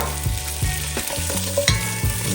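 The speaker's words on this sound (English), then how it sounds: "there's enough fat in here so I won't burn much. So I'll add in the rest of the andouille sausage." Andouille sausage fries in a pot with a steady sizzle while a utensil stirs it, scraping and knocking the pot in a loose, repeating rhythm, close and fairly loud.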